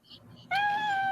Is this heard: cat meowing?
yes